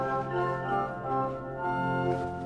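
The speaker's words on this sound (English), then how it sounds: "And then there's a two-foot flute as well." A two-foot flute stop on the Hinsz pipe organ in the Bovenkerk, Kampen, plays a steady, sustained passage of high, bright tones in a reverberant church, moderately loud and without voices.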